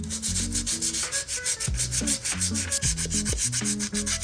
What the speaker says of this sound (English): Now I just gotta sand it down